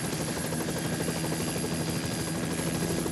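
Helicopter flying overhead on an approach from the air, a steady, loud rotor and engine drone with constant blade chop filling the whole stretch, no voices.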